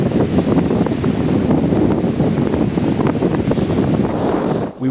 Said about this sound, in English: We awoke to gale-force winds and whitecaps as far as the eye could see.